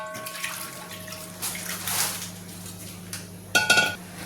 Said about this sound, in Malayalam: ഇതിലേക്ക് നമ്മൾ ഒരു അര ലിറ്റർ വെള്ളം ഒഴിച്ചു കൊടുക്കും